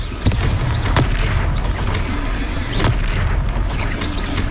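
In the video game Hogwarts Legacy, the Confringo fire spell explodes during combat as loud, deep booms and blasts roll continuously, with several sharp impacts layered over a heavy low rumble.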